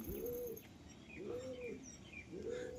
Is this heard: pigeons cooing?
yes